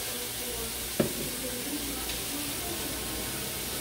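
Beef with soy sauce, rice vinegar, pepper and paprika sizzles steadily in a pan as it is stirred, with one sharp knock of the utensil against the pan early on.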